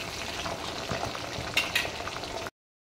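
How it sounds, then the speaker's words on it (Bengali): A fish head, an ilish (hilsa) head, fries in hot oil with a steady close sizzle and crackle, broken by two sharper clattering bursts as it is turned over in the pan. "এবার আমি মাথাটাকে উল্টে দেব, উল্টে দিয়ে এপিঠও ভালো করে ভেজে নেব"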